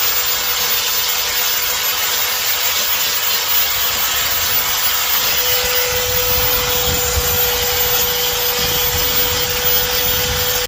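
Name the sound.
belt sander sanding car body panel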